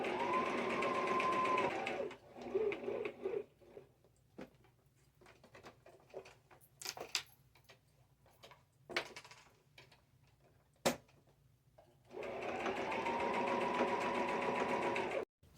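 Straight stitching on a sewing machine around an upcycled fabric butterfly appliqué: a steady whirring run at the start, a quiet stretch of small clicks and handling noises, then another sustained burst of stitching.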